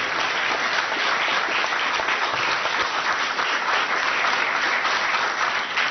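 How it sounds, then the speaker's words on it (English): An audience at the National Press Club applauds a guest speaker with steady, sustained clapping, a dense even roar from start to finish. "How about a round of applause for our guest speaker today?"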